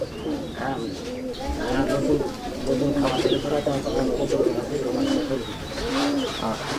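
Pigeons coo steadily and loudly at a pigeon farm in a pigeon village, overlapping rolling calls forming a continuous chorus, with occasional chirps above it and faint background voices.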